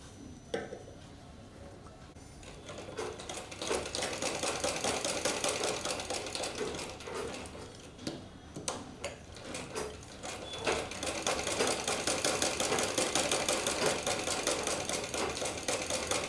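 A sewing machine stitches lace onto a tulip-style blouse sleeve, its needle chattering in a fast steady rhythm that pauses briefly a couple of times before running on, close and moderately loud.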